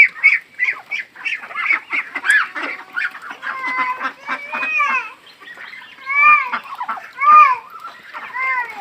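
Chinese ducks honking in a busy group, with repeated nasal calls that overlap and come close and loud, spread across the whole stretch, with chickens likely mixed in on the same farm.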